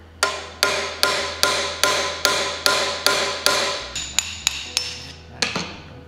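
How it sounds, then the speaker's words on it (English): A hammer taps a metal knife guard in a steady series of sharp strikes, about two per second, then quicker lighter taps toward the end, close and clear. "I'm gonna focus a little bit more hammer pressure on the top here."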